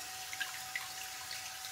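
A tap runs steadily while shaving gear is washed under it, a faint, even hiss of flowing water with a few small drips and splashes, close by, no talking.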